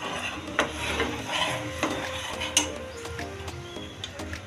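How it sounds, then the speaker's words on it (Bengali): A spoon stirs custard powder slowly into a mixture in a bowl, giving soft, continuous scraping and rubbing with a few small clinks against the bowl. The sound is close and steady, with no talk. "এবার এই কাস্টার্ড পাউডারটা এর সাথে মিশিয়ে দিতে হবে। আস্তে আস্তে মেশাবেন এবং এটাকে মিক্স করতে থাকবেন।"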